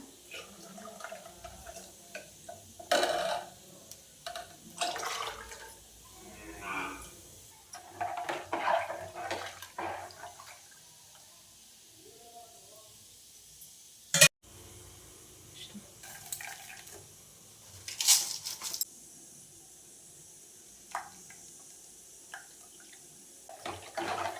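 Leftover cooking water from boiled dal and a sautéed sprouted-gram and vegetable dish is poured into a pot, giving soft, intermittent splashes and gurgles in a quiet kitchen.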